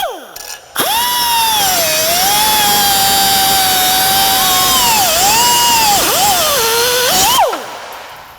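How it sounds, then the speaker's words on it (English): A power tool cuts through the 14mm exhaust bolts on a 1990-2001 Acura Integra during a header install: a loud, steady whining grind of about seven seconds that wavers in pitch as the blade bites, then stops abruptly. "I'm just going to cut through these bolts just to save time."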